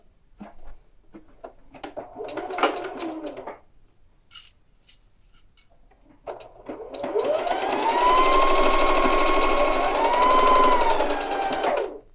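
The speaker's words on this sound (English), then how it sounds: "Now I'll take it to the machine and I'll stitch the pieces together with a 1/4 inch seam allowance" Sewing machine stitching a tie jacket seam with a quarter-inch allowance: soft rustling and snipping of fabric at first, then a steady motor whir that swells and holds, fairly close.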